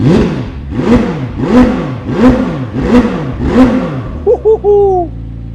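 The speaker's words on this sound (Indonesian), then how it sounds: "Cepet, V8-nya tuh cepet sekali naik RPM-nya ya" A McLaren 750S V8 engine revs hard in six quick, evenly spaced bursts, loud and close, then drops to idle with a few short whines.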